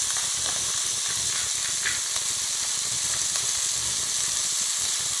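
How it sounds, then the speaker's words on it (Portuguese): Onion lightly browning in a pan for feijão tropeiro, sizzling with a steady, dense hiss close up that runs unbroken throughout, with faint stirring ticks and no talk. "Vamos dar uma leve dourada na cebola"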